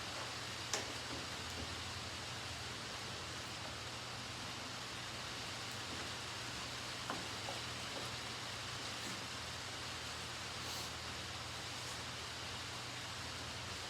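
Heavy rain falls outside a boat-building workshop, heard as a steady, even hiss with faint occasional ticks and drips, a constant muffled roar filling the background throughout.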